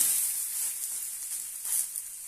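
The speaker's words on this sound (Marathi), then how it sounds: "मस्त अपना खरपूस भाजून घेऊया" Bajra and methi thalipeeth roasting on a hot pan gives a steady soft sizzle, close and fairly quiet, with a brief rise in crackle near the end and no voices.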